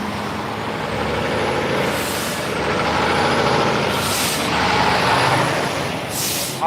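Air brakes on a truck hiss in three loud bursts, spaced a couple of seconds apart, over the steady rumble of a heavy truck idling or rolling close by on a road.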